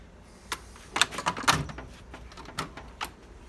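A drawer sliding open on a toolbox holding old Craftsman metric stubby wrenches, heard as a few close, light clattering rattles and knocks over a few seconds.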